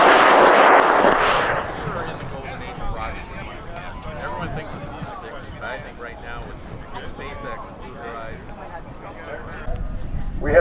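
A high power rocket for a level 2 certification flight launches at Airfest in Argonia, Kansas, a loud roaring burst up front that fades into a distant rumble while an announcer speaks over the field.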